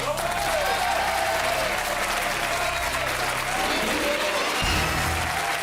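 A studio audience at a French television talk show applauds steadily and evenly for the whole stretch, a dense wash of clapping with no pauses.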